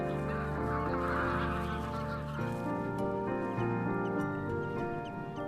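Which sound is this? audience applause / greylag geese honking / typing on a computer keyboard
greylag geese honking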